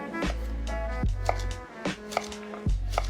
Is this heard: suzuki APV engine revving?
no